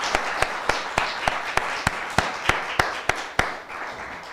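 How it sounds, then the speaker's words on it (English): An audience at a Gita Jayanti gathering claps together in a steady rhythm, with a single sharp clap landing about every third of a second over a fuller wash of applause. "So, come on, a loud round of applause."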